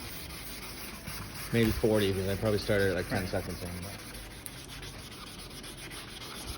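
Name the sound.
sanding plastic headlight with Wurth Canada restoration kit sandpaper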